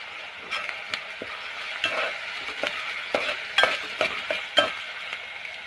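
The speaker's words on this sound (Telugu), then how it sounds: "అల్లం వెల్లుల్లి పేస్ట్ పచ్చివాసన పోయేంత వరకు వేయించుకోవాలి" Ginger garlic paste frying in a pan for mutton curry, a soft continuous sizzle with repeated spoon scrapes and stirs that grow busier toward the end.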